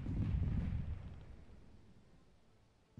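Cannons fire cannonballs in the pirate video game Buccaneers, a single loud, deep boom that rolls off into a long fading rumble, with a fresh blast just starting as it ends.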